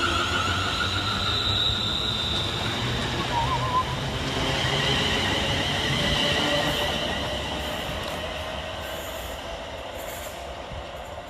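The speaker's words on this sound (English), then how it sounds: "So let's get started at the new look Perry Barr with 350-402, working the 1442 West Midlands Railway service of Wolverhampton to Walsall." A West Midlands Railway class 350 electric train at Perry Barr station, rumbling steadily and close with rail and wheel noise throughout, high wheel squeal along the track, the sound slowly easing toward the end.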